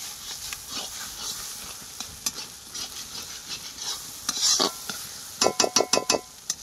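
Spice paste for mutton curry fries in oil with a soft continuous sizzle while a spoon stirs it, scraping the pan in irregular strokes and ending in a quick run of sharp taps, close by.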